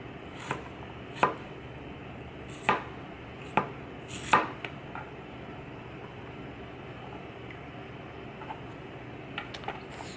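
A knife cutting fresh ginger into thin slices on a cutting board, a handful of sharp, irregular chopping knocks close by, spaced a second or so apart, with quieter taps near the end.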